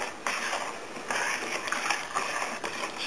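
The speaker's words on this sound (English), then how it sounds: "you want to stir this up really well, because a lot of its grains down at the bottom." Orange fabric dye being stirred in a container of water, a steady close watery swishing and sloshing with small splashes, repeating in gentle strokes throughout.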